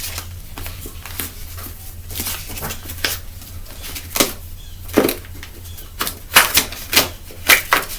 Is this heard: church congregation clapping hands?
no